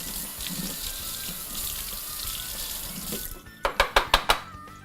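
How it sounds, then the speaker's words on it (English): A jam funnel is rinsed under a running kitchen tap while making apricot jam; a steady close rush of water lasts about three seconds, then stops, followed by a quick series of five sharp clinks. "always rinse your funnel out every time so it doesn't get all sticky"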